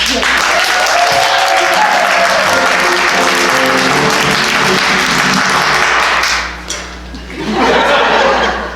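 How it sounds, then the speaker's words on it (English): A theater audience at a community production of the musical The Mystery of Edwin Drood bursts into loud sustained applause mixed with laughter. It dips briefly near the end and then swells again. "A warm round of applause, if you will, for our leading"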